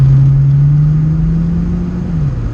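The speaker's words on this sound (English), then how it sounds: "immediately now, just love having a loud exhaust already" Mercedes-Benz 600SL engine with a loud aftermarket-style exhaust, a steady deep drone that rises slightly in pitch then drops near the end, close and loud with no talking.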